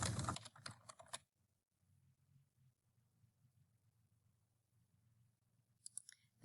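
Computer keyboard typing in a word-processing drill, a short fast run of clicks at the start, then near silence with faint hum, and another brief patter of keys at the end.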